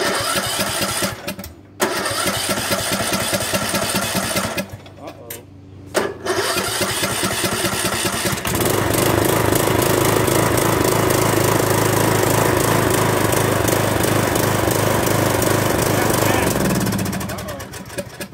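A Craftsman small engine, after carburetor cleaning, sputters and cranks a couple of times, then catches and runs at a loud steady roar before winding down at the end.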